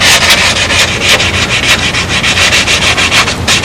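Close, loud hand sanding of a wooden fillet with 400 or 320 grit paper, a steady rhythmic scrubbing of quick back-and-forth strokes and no talk.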